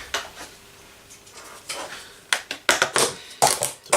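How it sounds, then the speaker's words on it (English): Gritty sand scraped and stirred into texture paint, uneven bursts of rough crunching and scraping that grow louder and more frequent toward the end, with no talking. "So I'm just going to add a bit of sand in here."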